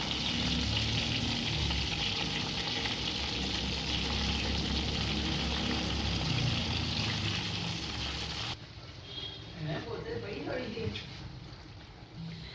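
Capsicum stuffed with keema fries in a covered pan, a steady sizzle that cuts off abruptly, leaving quieter crackles and faint handling sounds as the peppers are turned.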